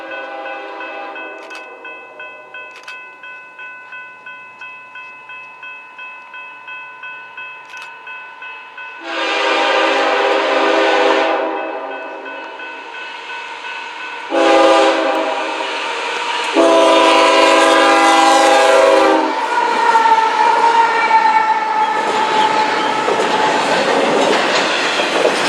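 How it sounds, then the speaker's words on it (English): A long freight train led by two GE locomotives passes on a hill, with a steady rhythmic clatter of wheels and several loud, sustained blasts of a multi-tone horn, the engines roaring close by. "Next up is the Daily Z from Los Angeles, California to Tacoma, Washington with 2 GEs leading the way."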